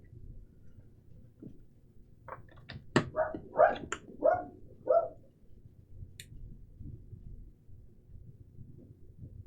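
A short run of muffled dog barks, several in quick succession, fairly distant, then quiet returns.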